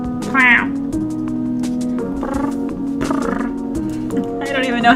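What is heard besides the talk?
cat purring meow from video game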